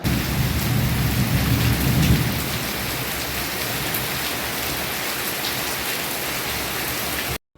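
Heavy rain pours outside in a steady, dense hiss of drops hitting surfaces, loud and continuous with a deeper rumble early on, then cutting off abruptly at the end.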